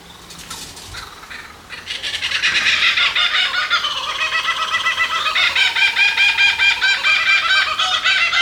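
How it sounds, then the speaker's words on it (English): Two kookaburras calling outdoors: a loud, rapid, rhythmic cackling chorus that swells in after a quieter opening and keeps going to the end, close and clear with no talking. "It's a kookaburra."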